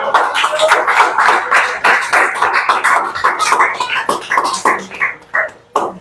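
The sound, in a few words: audience applauding in church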